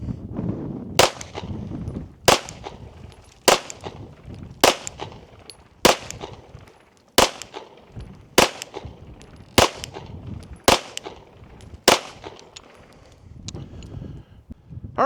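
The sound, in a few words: pistol gunshots, Rost Martin RM1C firing reloads at target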